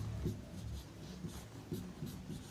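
Someone handwrites a lattice energy definition in a chemistry lesson, making soft scratchy strokes in short bursts over a constant background hiss, with no voice.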